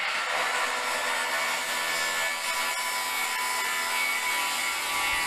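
Bosch GKS 18V-68 cordless 7-1/2 inch (190mm) plunge circular saw cutting through wood, a loud, steady high-pitched whine and rasp that runs without a break, close by, with no voices.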